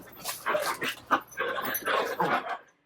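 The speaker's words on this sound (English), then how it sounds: "the dogs are getting snarly" Dogs growl and whimper up close in short snarly bursts with yips between them, fairly loud against a quiet room, ending in near silence.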